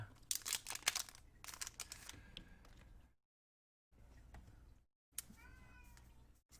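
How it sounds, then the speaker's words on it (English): A cat meows at a door in short, faint calls heard in separate bursts between quiet gaps, distant and soft against low room noise. "my cat's meowing at the door"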